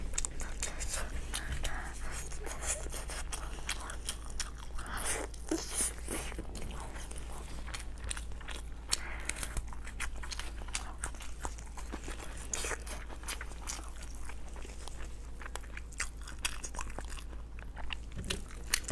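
Close, quiet chewing of braised pig head meat with lamb intestine, with crunchy bites and soft wet mastication repeating steadily throughout, alone without talk.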